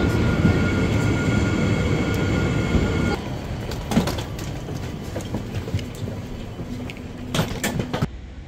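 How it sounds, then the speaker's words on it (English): Train heading to Arcachon early in the morning, a steady rumbling ride with rattles and clicks that shift partway through, plus scattered knocks and bumps nearby. "I'm about to get a train to Archon"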